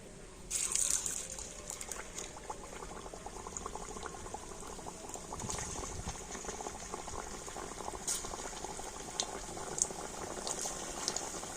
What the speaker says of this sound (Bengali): তেলটা গরম হয়ে গিয়েছে আর এবার আমি মিষ্টিগুলো তেলের মধ্যে দিয়ে দেবো